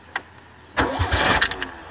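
Gasoline car engine cranking briefly and then catching, starting up on a cold early morning after its spark plugs were side-gapped, settling into a loud, close, steady running rumble that continues to the end, with a short faint click at the start.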